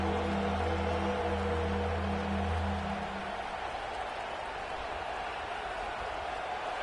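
Home crowd roaring in LSU's Death Valley stadium during an LSU versus Miami college football game, a broad continuous wash of distant cheering, with a low steady hum in the first half that then fades out.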